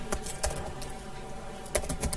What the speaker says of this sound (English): for example I type the name of my website